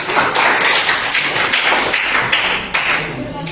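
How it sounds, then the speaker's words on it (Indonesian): High school geography students applaud a presenting group, a brisk, dense patter of hand claps from the whole class that stays fairly even throughout, with a faint murmur of voices underneath. "Tepuk tangan untuk kelompok 1."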